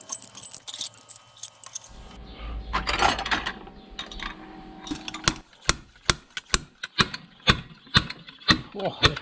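Studs being removed from a Mazda 13B rotary engine housing during a teardown: metallic clanks and scraping, then a run of sharp, evenly spaced ratcheting clicks from a wrench, close and loud, with no talk.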